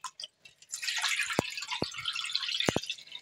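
Biryani rice being washed by hand in water, with close sloshing and trickling and a few sharp drips, soft and steady, no voices.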